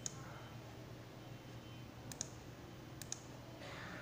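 A few faint, crisp computer mouse clicks on an Ubuntu desktop, spaced out singly and in a quick pair over low background hum.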